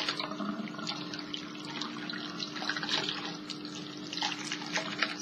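Hair extensions rinsed under a running tap into a sink, a steady close stream of water splashing and trickling throughout, with no voices.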